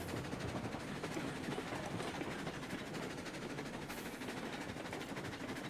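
A steam locomotive rolls along in the Railroads Online train game, giving a continuous rumbling clatter with rapid rhythmic clicking. It stays steady and fairly faint throughout, with no voices.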